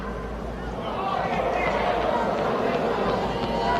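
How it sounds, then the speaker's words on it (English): A tennis match crowd in the stands makes a continuous murmur of chatter and babble, loud and close and rising slightly partway through, with no single voice standing out. "So you can hear the crowd in the background."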